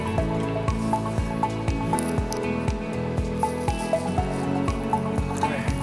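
A pot of water comes to a boil for spaghetti, producing a steady series of close bubbling pops and soft plops in an irregular rhythm over a faint background hum, with no talking.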